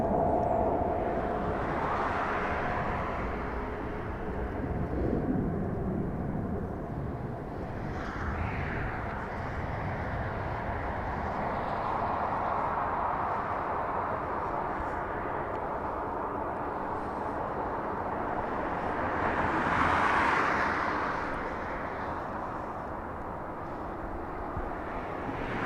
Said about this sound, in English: up next is the 757 Delta Airlines from Boston